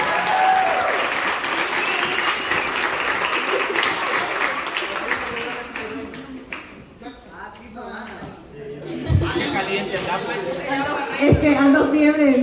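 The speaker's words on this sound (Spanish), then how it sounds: "yo creo que merecen un fuerte aplauso las 10" A crowd at a beauty pageant in El Salvador applauds the ten queens, with loud, sustained clapping mixed with cheering and chatter that dips midway, then swells again as voices come through.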